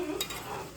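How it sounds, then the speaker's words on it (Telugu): Fish pulusu (fish curry) being stirred in a pan, a brief soft scrape of the spoon over a low simmering sizzle, close and quiet with no voices. "మధ్య మధ్యలో ఇలా కలుపుతూ ఉండండి గాయ్స్, నిదానంగా"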